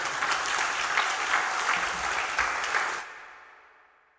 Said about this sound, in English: She deserves a proper round of applause